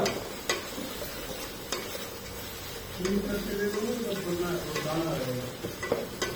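A utensil stirs rice, vegetables and tomato in a cooking pot, making light scrapes and clinks over a faint sizzle while a voice talks over the latter half.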